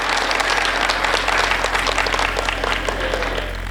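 An audience at a comedy poetry event breaks into dense, sustained applause, many hands clapping loudly and evenly for several seconds before easing slightly at the end.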